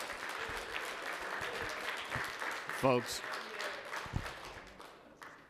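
An audience in a city council chamber at City Hall applauds steadily, a moderate round of clapping in the room that fades toward the end, with a voice speaking briefly over it.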